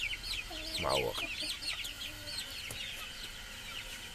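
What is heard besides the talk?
chickens clucking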